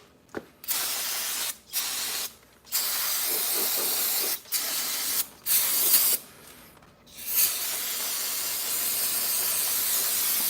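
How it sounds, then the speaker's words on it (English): Carb cleaner sprayed onto a dirty small engine area of outdoor power equipment such as a pole saw or string trimmer: loud close aerosol hiss in repeated bursts of varying length, then a longer continuous spray, no talking. "Blast this guy with some carb cleaner. Just want to clean that area out."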